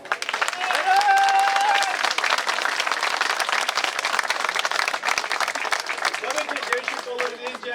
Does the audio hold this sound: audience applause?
yes